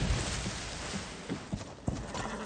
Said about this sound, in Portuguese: Guardaram os cavalos.